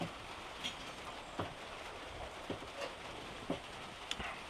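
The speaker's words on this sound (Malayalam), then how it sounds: "ഏകദേശം ചൂടാറി നല്ല മഴയായതുകൊണ്ട്" Steady rain hisses softly in the background, with occasional louder drips and taps landing nearby.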